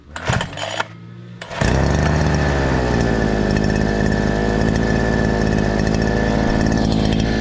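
A gas-powered brush cutter engine pulls over with a few sputters, then catches and runs at a loud, steady high-pitched buzz that holds close and continuous through the rest of the clip.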